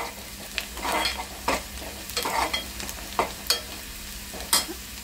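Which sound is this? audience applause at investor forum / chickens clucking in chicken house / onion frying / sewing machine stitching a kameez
onion frying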